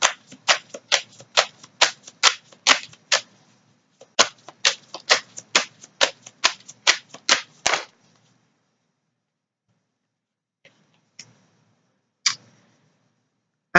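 Tarot cards riffled and shuffled in two quick bursts of dense crisp flicks, close by, followed by a few soft isolated taps as cards are drawn for a reading.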